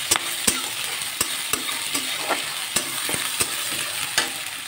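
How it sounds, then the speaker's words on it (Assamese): Ginger and garlic paste stirred into hot oil in a pan for Assamese-style chili chicken, with steady sizzling frying and a series of sharp spatula scrapes and clicks against the pan, close and alone. "ইয়াতে মই আদা নহৰুখিনি দি দিছোঁ। আদা নহৰুখিনি দি অলপমান লাৰি দিব লাগিব।"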